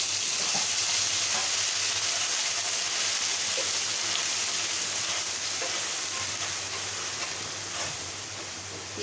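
Onion paste frying in a pan for egg curry, a loud, dense and continuous sizzle with faint stirring scrapes, close and steady throughout.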